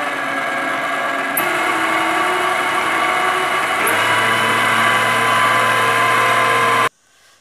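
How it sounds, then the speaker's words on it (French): An electric mixer beats biscuit dough with cornstarch in a steady motor whine, shifting pitch twice as the speed changes, then cutting off abruptly near the end. "je viens de mettre la maïzena ou la fécule de maïs et encore mélanger quelques minutes"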